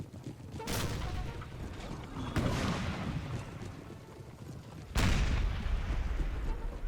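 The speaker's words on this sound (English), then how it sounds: "Start to barrage the enemy" Artillery fires a barrage in a Napoleon: Total War battle, with three heavy booms spaced a couple of seconds apart, each trailing into rumbling echoes over low battlefield noise.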